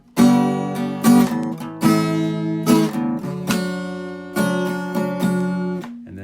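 Two-note guitar chords ring out one after another, about eight separate strums spread evenly across the passage, each sustaining clearly with no voices.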